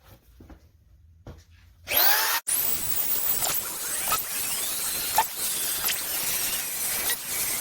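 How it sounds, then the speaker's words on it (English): DeWalt drywall screw gun driving screws into a drywall sheet in a garage: after a quiet start, a loud sustained whirring motor runs for several seconds with brief pauses and clicks, close by and alone. "I ended up picking up a different drywall screw gun"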